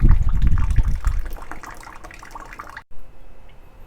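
Rusty coolant drains out of a car radiator as a steady, full-bodied pour that thins to a softer trickle, with a short gush near the end.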